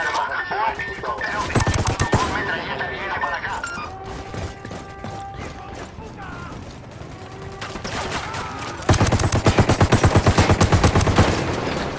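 Gunfire rings out in a Ghost Recon Wildlands battle against a sniper: loud shots and clattering bursts, ending in a fast run of repeated shots, with players talking throughout.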